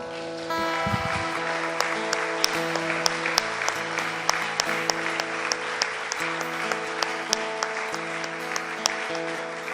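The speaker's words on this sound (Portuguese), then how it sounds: "aplaude o Senhor" A church congregation applauds during a worship service, with continuous clapping over sustained keyboard-like musical tones, steady for nearly ten seconds after a short low thump at the start.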